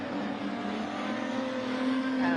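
Street stock race cars roar around the Gulf Western & Independent Oils Raceway during a heat, a sustained, buzzing engine drone with a rising pitch and no clear voices.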